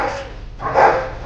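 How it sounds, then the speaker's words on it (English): Dog at an animal shelter whimpering and giving a short bark, a moderately loud burst rising midway through over a steady background of kennel noise. "You're a good looking dog."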